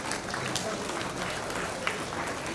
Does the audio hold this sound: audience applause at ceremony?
yes